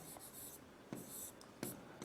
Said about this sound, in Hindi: देखिए, एक सेंटेंस लिखता हूं मैं